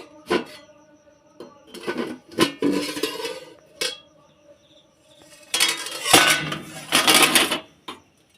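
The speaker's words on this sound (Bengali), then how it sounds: "ঢাকনাটা আস্তে করে খুলে দেখে নেব।" A metal plate used as a lid is lifted off a cake pan on low heat, giving close metallic clinks, scrapes and rattles in scattered bursts, with a longer clattering stretch near the end.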